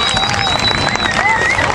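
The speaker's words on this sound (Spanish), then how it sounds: "podemos volver a aplaudir de vuelta" Crowd noise and cheering from an audience at an outdoor murga show in Parque Central, Mendoza, a dense, steady wash of voices with some clapping mixed in, close and fairly loud for under two seconds.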